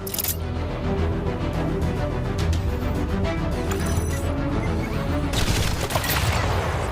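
Auxiliary weapons on an Iron Man suit fire at targets in a video game, a loud, dense stream of rapid blasts and crashing impacts that continues without a break throughout.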